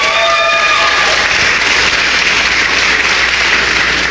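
Sustained audience applause at a reparations convention in Washington, D.C., a dense, steady wash of clapping filling the room at full volume, with a few whistles at the start and no talking over it.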